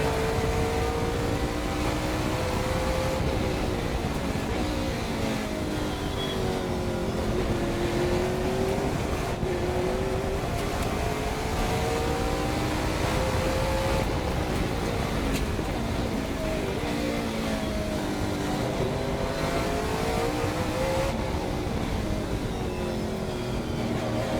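A Trans Am race car engine at Thunderhill roars loudly and continuously, its pitch climbing and dropping as it shifts gears and speeds along the track through traffic.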